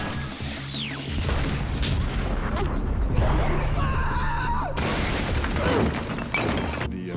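Green Goblin's pumpkin bomb goes off in a Spider-Man film effect: a dense, sustained crash of explosive rumble, shattering debris and whooshing mechanical sweeps. It is loud and continuous, with no quiet gaps.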